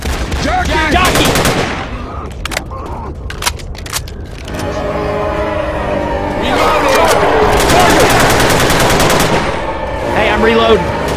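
Rapid automatic gunfire in the zombie shooter Left 4 Dead 2, dense loud bursts and scattered single shots, with players shouting over the shooting.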